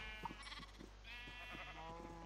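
Minecraft sheep bleat several times in quick succession, wavering nasal cries close up against a quiet background hum, with no talking.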